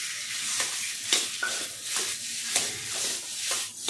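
Boiled potatoes being stirred into a spice mix in a pan, giving a steady broadband frying hiss with repeated scraping strokes roughly every half second, close and moderately loud, with no talk.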